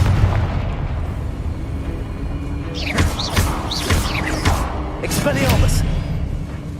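Confringo spell blasts in the video game Hogwarts Legacy: a cluster of loud booming bursts with bright crackling effects over a continuous rumble, overlapping with a voice shouting.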